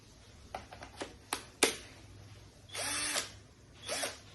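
A handheld cordless power drill with a stuck, rusted chuck whirs in short bursts, a few quick blips and then two longer runs, fairly faint against a quiet background.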